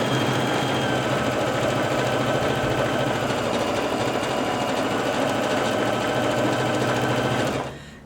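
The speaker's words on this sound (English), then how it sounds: "I'm going to just simply stitch right down the middle" A Babylock Jazz sewing machine stitching a straight seam down the middle of a microwave potato bag: a loud, continuous, fast whirring hum that runs for several seconds and then winds down abruptly at the end.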